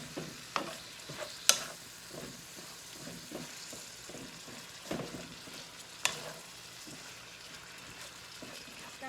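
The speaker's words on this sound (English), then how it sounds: "Incorporating the sausage with the ground beef." Sausage and ground beef being stirred and fried in a pan, soft sizzling with repeated scraping stirs and a few sharper clinks of the utensil against the pan, fairly quiet throughout.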